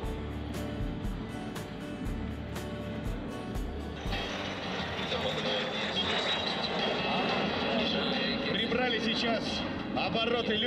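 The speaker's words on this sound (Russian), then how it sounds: "в небе отрабатывали фигуры высшего пилотажа легкие самолеты, пилотажники группы «Русь», а также тяжеловесы на Су-35" Aerobatic light planes and heavy Su-35 fighter jets fly over the MAKS 2017 airshow near Moscow, a steady loud engine roar with rising jet noise that swells and thickens midway, sustained throughout with crowd ambience.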